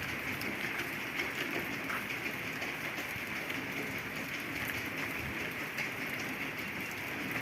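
Steady light rain falls on a house construction site, a continuous even hiss of drops on surfaces and roofing without pauses, moderately quiet and unbroken by voices.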